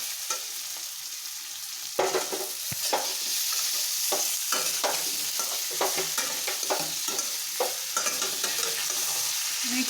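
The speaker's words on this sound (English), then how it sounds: "I fry paneer in cassava frying" Paneer sizzling steadily in hot cassava oil while being stirred, with repeated scraping stir strokes over a continuous crackling fry, close and fairly loud, no voices.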